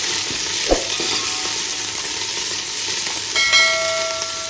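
Onions fry in a pan for homemade chicken mandi, a loud continuous sizzle with a sharp knock of the stirring utensil early on and a brief hiss of steam toward the end.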